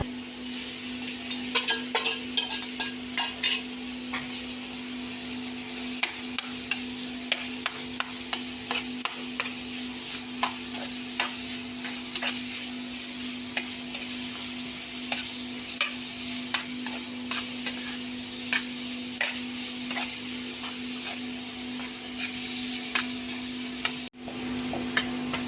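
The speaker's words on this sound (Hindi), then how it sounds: "अब यहाँ पर प्याज और सब्ज़ मिर्च चॉप किया हुआ वो शामिल करेंगे।" Chopped onion and green chilli cook in a pan with chicken mince, a steady close sizzle broken by frequent sharp scrapes and taps of a spoon stirring, with no talk.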